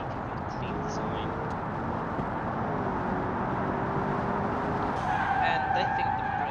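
A modern, sleek supercar with sports-car performance and a tendency to understeer drives at around 140 in the racing sim Automation. A steady engine drone runs throughout, with tyre-skid noise rising near the end, under a talking voice.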